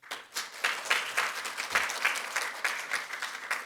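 A crowd applauds steadily to welcome arriving National Assembly members at the launch ceremony of a social economy solidarity forum, held with a policy debate. The dense clapping sounds moderately close and carries on without speech.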